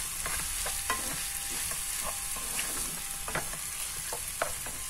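Shrimp sautéing with garlic and onion for pancit canton: a constant, moderately quiet hiss of hot oil with small scattered pops and light stirring ticks.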